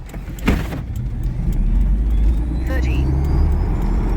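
An original-drivetrain vintage truck running a 0-to-60 acceleration test, a sluggish run of about 13 seconds: a loud, steady low engine rumble with a sharp thump near the start and a brief whine partway through.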